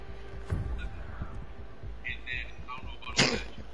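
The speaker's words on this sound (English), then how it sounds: "I cough" A person coughs close to the microphone in two sharp, separate bursts a few seconds apart, with quiet background noise between them.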